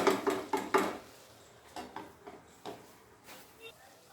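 A metal lid clatters onto a pan of spinach curry on the stove, a quick run of four sharp knocks followed by several softer taps and scrapes, close and fairly loud.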